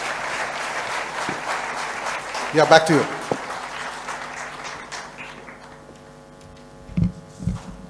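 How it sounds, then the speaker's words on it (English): An audience at a technology event applauds with a moderate, steady patter that thins out over several seconds, while someone speaks briefly partway through and a low hum lingers at the end. "Can we have a big round of applause?"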